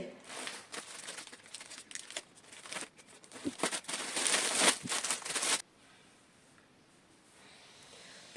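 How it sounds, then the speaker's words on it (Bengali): A parcel of clothes is unpacked, its plastic packaging crinkling and rustling in dense, loud bursts for about five seconds before falling to a quiet room hush. "পার্সেলটা আমি এখন আনপ্যাক করতে যাব"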